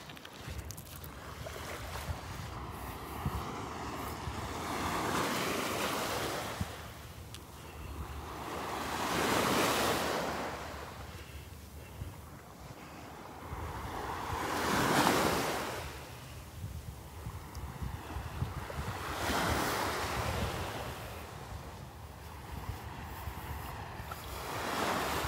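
Waves surge and break on the Gulf beach at Delnor-Wiggins, each swell building and fading every five seconds or so under a constant rush of wind across the microphone, with no voices.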